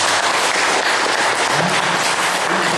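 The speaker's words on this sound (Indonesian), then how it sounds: "Tepuk tangan dulu biar senang." Sustained audience applause during a motivational talk, dense and steady clapping that fills the whole stretch at a loud, even level with no voices over it.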